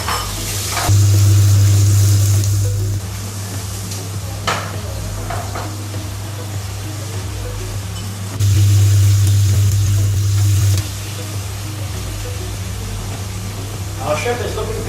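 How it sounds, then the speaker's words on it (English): Shrimp frying in garlic-infused oil in a pan, a steady sizzle with two louder bursts of hiss and low hum, occasional clinks of a utensil against the pan. "Now that we have all the garlic out, we'll add the shrimp to it now."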